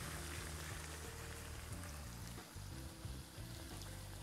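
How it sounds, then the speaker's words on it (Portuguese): A small creek trickles close by at a campsite in an indigenous village in Aquiraz, Ceará, a steady watery rush at moderate level with some low tonal hum mixed in, no voices. "Córregozinho ali do lado."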